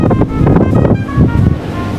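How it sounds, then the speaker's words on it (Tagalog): Strong wind gusts at the Pililla windmills in Rizal roar and buffet the microphone with deep, rumbling blasts, loud and continuous, with surf-like surges and no voices. "Pero hindi, malakas ang hangin eh."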